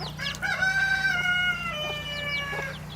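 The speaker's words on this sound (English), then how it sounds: "That's the silky rooster." A Silkie rooster crows once, a clear drawn-out cock-a-doodle-doo at moderate distance, with soft clucking from other chickens and a low steady hum underneath.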